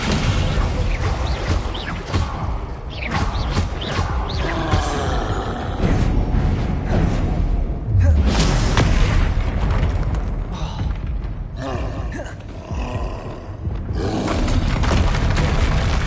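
A heavy slamming spell impact from the Descendo spell in Hogwarts Legacy, one loud booming thud amid a dense, continuous roar of combat effects and rumbling noise, with no speech.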